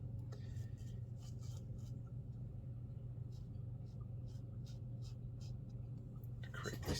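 A paintbrush drags across textured watercolor paper while a waterfall is painted, making faint, soft scratchy strokes in short repeated bursts over a quiet low rumble.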